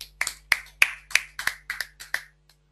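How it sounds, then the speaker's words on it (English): A few people clap in a short, sparse round of about eight separate claps, close and unhurried, with no talking over it, for a participant in an online study-abroad session. "a small round of applause for Madhusudan"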